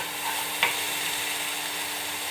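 Sugar being stirred into a simple pudding in a pan, a steady soft sizzle and hiss with one brief scrape of the spoon, close and alone.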